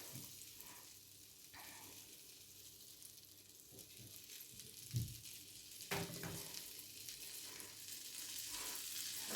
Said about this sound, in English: When you're melting the butter, have it high, but then turn it down to a medium to high heat.